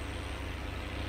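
A tractor engine straining under load in Farming Simulator, a Valmet 118 pulling a loaded Scania, giving a steady low droning rumble with a fast pulsing throb, close and continuous.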